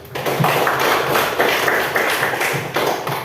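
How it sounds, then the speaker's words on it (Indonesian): A classroom of students clapping hands together, loud and close, with rhythmic bursts of claps in a roughly regular beat, a few louder thumps among them. "Tepuk tangan untuk kita."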